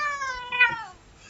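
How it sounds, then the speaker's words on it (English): A pet cat gives one close, clear meow that rises and then trails off over about a second, with no other sound around it. "This is my cat."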